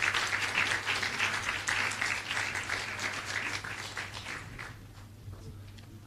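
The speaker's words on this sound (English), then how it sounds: "keep the applause going" Audience at a credit union annual general meeting applauding long service award recipients, a dense, sustained round of clapping that slowly tapers in loudness, with a low steady hum beneath and no one speaking over it.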